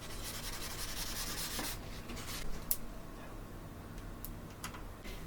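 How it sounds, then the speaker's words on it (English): Chalk pastel rubbed off a smooth painted bottle: a steady, close dry rubbing and scraping for about two seconds, then quieter intermittent rubbing with a few small sharp ticks. "I can rub the chalk pastel off quite easily."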